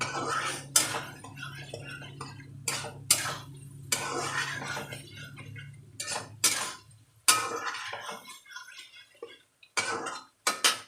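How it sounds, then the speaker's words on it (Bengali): Boiled potatoes are tossed with poppy seed paste in a pan, heard as irregular metallic clinks and scrapes of a utensil against the pan, with a low hum that fades midway and pauses between strokes. "তো এবার আমি আলুগুলো দিয়ে দিলাম, দিয়ে একদম এরকম নাড়াচাড়া করবো।"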